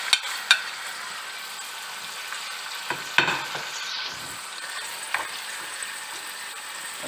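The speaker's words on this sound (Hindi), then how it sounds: "और इसे 5 मिनट फ्राई करेंगे।" Chicken sizzles in a pan with ginger garlic paste, a steady close frying hiss broken by a few sharp clicks and scrapes of stirring.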